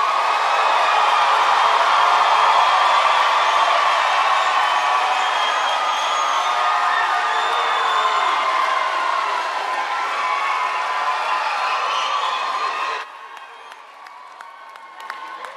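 A crowd at a high school commencement claps and cheers for a group of graduates, a loud, sustained roar of applause with shouts and whoops that runs about thirteen seconds, then drops off abruptly to quieter scattered sound.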